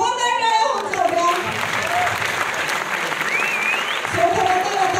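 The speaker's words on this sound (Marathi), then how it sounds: "सो या तगड्या टीमसाठी जोरदार टाळ्या होऊन जाऊ द्या." Applause from the audience at a Marathi film release event, sustained clapping throughout with a presenter's voice over the start and end.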